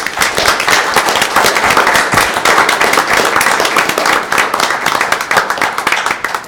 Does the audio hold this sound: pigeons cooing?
no